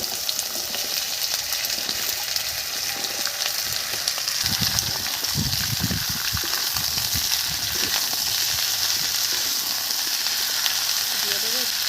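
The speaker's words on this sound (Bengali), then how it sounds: "তেল গরম হয়ে গেছে, বেগুন দিয়ে দিচ্ছি" Eggplant fries in hot oil with a constant bright sizzle that runs the whole time, and faint muffled voices or kitchen sounds pass beneath it around the middle.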